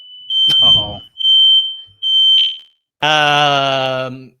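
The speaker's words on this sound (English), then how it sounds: "smoke alarm seems to be going off" A smoke alarm beeps loudly in repeated high-pitched bursts, followed by a long, sustained harmonic alarm tone, with a brief voice mixed in early.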